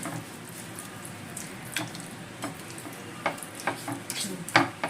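Raw boal fish is worked by hand with spices, oil and lemon juice, giving soft wet squelches and occasional light taps against a bowl, faint and close.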